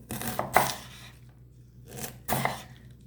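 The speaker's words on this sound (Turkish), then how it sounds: "Dilerseniz eğer robotunuz yoksa şu şekilde de ince ince kesebilirsiniz." A knife slices vegetables thinly by hand on a cutting board: two short bursts of quick crisp cuts, each a cluster of several strokes, separated by a pause, close and fairly quiet.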